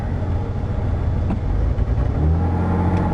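An old car's engine idles steadily and close by in a scrap yard, a continuous low rumble that settles into a steadier hum near the end.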